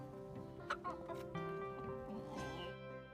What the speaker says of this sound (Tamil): சேவல் நம்மள காலையில கொக்கரக்கோன்னு எழுப்பி விடும்